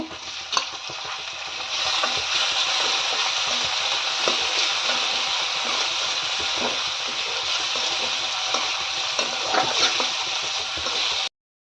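Chopped onion frying in a pan until lightly reddened for a finger millet (ragi) upma, a loud, continuous close sizzle with faint stirring scrapes throughout before it cuts off abruptly near the end.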